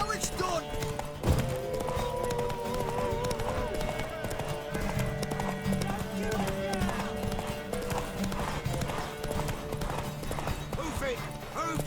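Horse hooves clip-clop and gallop in The Witcher 3: Wild Hunt, with rhythmic thuds under game music, shouting voices and an occasional whinny.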